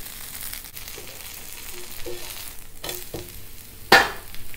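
A Karnataka-style dosa frying in oil on a pan, with a soft steady sizzle, a few light utensil taps and one sharp scrape near the end, close and without talk.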